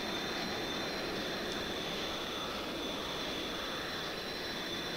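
Jet engine of a Lockheed U-2 in Microsoft Flight Simulator X, a steady, even roar with a faint high whine, holding constant for the whole stretch with no voices.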